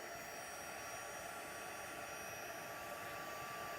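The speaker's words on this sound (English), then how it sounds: "my heat gun is hot from the last one" A heat gun blows steadily over embossing powder on a handmade card, a continuous airy roar that holds even and fairly quiet throughout, with no talk.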